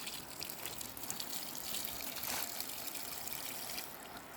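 Water spraying and trickling steadily onto an off-grid garden of tomatoes, a continuous hissing wash of liquid that rises briefly in the middle and runs on without talk.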